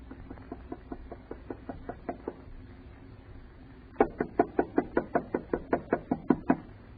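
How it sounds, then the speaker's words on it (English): Knocking on a house door in a radio drama: a quick run of light raps, then a louder, firmer series of about a dozen evenly spaced knocks close by, with no talk over them. "Knock harder, Alice."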